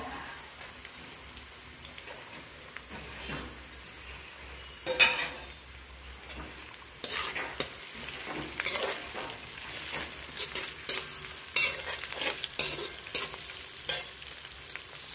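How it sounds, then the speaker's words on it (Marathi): Chopped vegetables with beans and carrot stir-fry in a hot pan for a catering order, a close sizzle with bursts of scraping stirring that grow busier after the vegetables go in. "आता भाज्या टाकायच्या. ह्याच्यात मी बीन्स टाकते."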